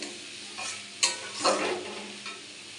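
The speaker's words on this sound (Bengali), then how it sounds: "পেঁয়াজটাকে ভালো করে লাল করে ভেজে নিতে হবে" Onions frying with garlic in hot oil for biryani, a close sizzle broken by a few scraping stirs of a spatula in the pan.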